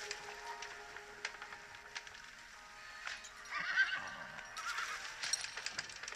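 A horse in a mobile video game whinnies several times at moderate distance, with faint hoof clip-clops and soft game ambience and no talk.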